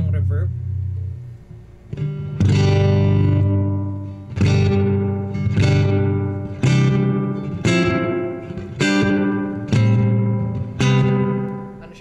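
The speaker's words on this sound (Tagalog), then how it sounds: "Tunog spring reverb." Kustom KG100HFX 4x12 guitar amp with its spring reverb on, played as a series of loud strummed chords, each ringing out with a splashy, lingering tail, no talking.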